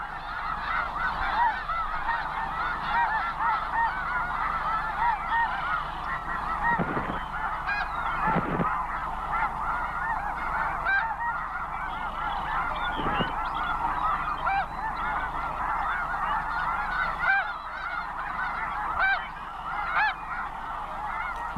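Snow geese in a settling colony honk continuously, a dense overlapping chorus of many birds near and far, with a few louder close calls standing out.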